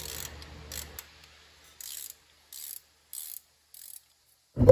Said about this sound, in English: I take my ratchet and just tighten it up as much as I can on the shortest handle